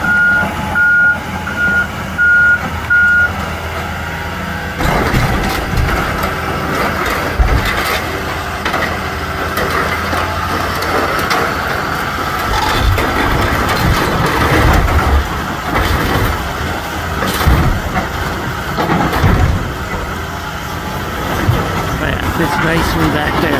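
A scrap truck hauls away an old Chevrolet car, its engine rumbling loud and close throughout while a reversing beeper chirps steadily, with clanks and rattles over the diesel drone.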